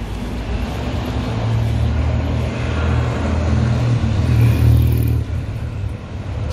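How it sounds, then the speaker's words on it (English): Heavy vehicle traffic on a West Ealing street in London, with big buses driving past, gives a steady loud low engine rumble that swells slightly and eases near the end, with no voices. "you can see the big buses are driving"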